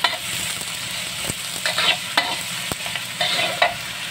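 Garlic sizzles as it is sautéed in a large wok for egg tinola, with a steady frying hiss broken by scraping stirs and clinks of a utensil against the pan, close and moderately loud.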